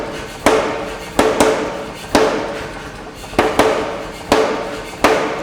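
Power hammer dies strike and draw out hot axe steel while forging a replica 1000-year-old carving axe, six heavy, evenly spaced metallic blows landing about every second, each ringing briefly.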